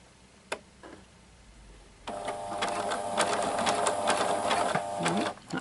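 A Pfaff classic-style quilting sewing machine stitching through fabric, a steady rapid mechanical chatter starting after a couple of quiet seconds with faint clicks beforehand, running loud and continuous to the end.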